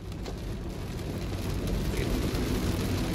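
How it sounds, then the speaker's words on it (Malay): Heavy rain drums on a car's roof and windshield during a drive through traffic in Shah Alam, a steady dense hiss that swells slightly louder midway, with no talk. "Oh, hujan lebat."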